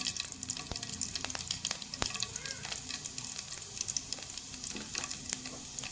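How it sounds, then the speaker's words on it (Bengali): Bay leaf, cardamom, cinnamon and cumin tempering in hot oil for a pointed gourd dish, a soft continuous sizzle with small crackles and occasional light pops, fairly quiet and close, with no speech. "দিয়ে দিব ফোড়নে তেজপাতা এলাচ দারচিনি গোটা গরম আর সাদা জিরে"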